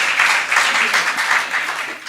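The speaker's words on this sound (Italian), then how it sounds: "facciamo un applauso a Mariella" A church congregation applauds for Mariella with brisk, continuous clapping that swells and eases in small waves, filling the room at a fairly loud level.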